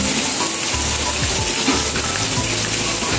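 Onions go into a hot pan with garlic and fry with a loud, steady sizzle and hiss that stays up close throughout, with no pause or break.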